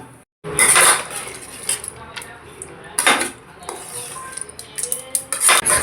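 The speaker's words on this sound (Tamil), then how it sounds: "இப்போ இதில் சாதத்தை போட்டு கிளறிடலாம்" A metal ladle scrapes and clinks in a pan as cooked rice is stirred into roasted coconut for South Indian coconut rice, with repeated close scraping strokes and brief gaps, no talk.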